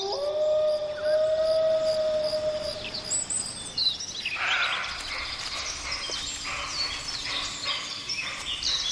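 A wolf howls in the wild mountain forest of Somiedo Natural Park, a long sustained wavering tone in the first few seconds, followed by chirping birds and other calls carrying on in the open air.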